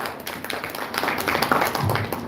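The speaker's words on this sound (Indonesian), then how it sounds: "Boleh kita berikan tepuk tangan yang meriah, hadirin." Audience applause at the AXIOO Tech Day 2023 event in a hotel, a brief burst of many hands clapping at moderate loudness that swells slightly toward the end.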